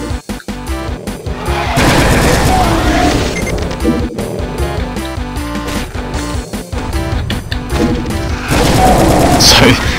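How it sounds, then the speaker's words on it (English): The plasma gun firing rapidly in Brutal Doom, a dense run of fast repeated shots with booming impacts and crashes, loud and continuous over several seconds. "that's the plasma gun. It shoots blue plasma-y stuff"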